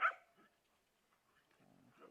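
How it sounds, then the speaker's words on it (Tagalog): A single sharp dog bark at the start, followed by quieter rustling and a low, muffled growl-like sound toward the end. "Yan ang aso ko."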